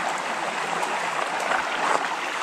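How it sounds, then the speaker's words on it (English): Continuous babble of a small outdoor creek flowing over stones, a close, steady trickling rush with small splashes, no voices. "of course Houston would find a creek to explore"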